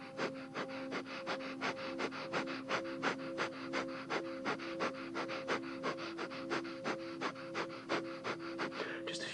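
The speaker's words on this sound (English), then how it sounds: "Keeping those long, deep inhales and deep exhales, or if you know it, coming into breath of fire." Rapid, rhythmic breath-of-fire yoga breathing, a steady train of short forceful nasal exhales, about three per second, close and continuous with no talk.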